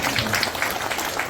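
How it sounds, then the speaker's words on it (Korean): Audience applause fills a lecture hall at a special invited talk by former Unification Minister Chung Dong-young, a steady, dense patter of many hands clapping for just over a second. "이거 역시 동의하시는 분만 박수 한번"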